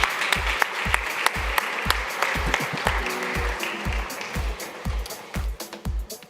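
An audience on a conference main stage applauds Felipe with dense, sustained clapping, while steady rhythmic bass thumps pulse beneath it throughout.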